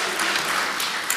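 Congregation at an evening Sabbath service applauding after a performance, a brief, steady wash of many hands clapping with no speech over it.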